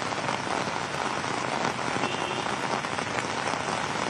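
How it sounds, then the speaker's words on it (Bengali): Steady rain pattering on an open umbrella outdoors during the monsoon, a dense continuous hiss of drops close by with no voices. "এই মুহূর্তে ছাতা মাথায় দাঁড়িয়ে রয়েছে এবং বৃষ্টি পড়তে শুরু করেছে"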